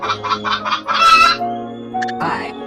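A hen clucks in a quick series of short rhythmic calls, then lets out a longer squawk, with a brief high chirp and another cluck near the end.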